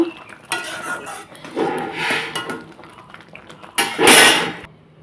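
A metal basin clatters and scrapes in a home kitchen while mango chutney is being made. The clinks and knocks come in several short bursts, close and fairly loud, with one sharper rattle near the end.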